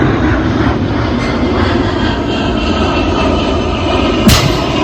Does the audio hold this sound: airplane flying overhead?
yes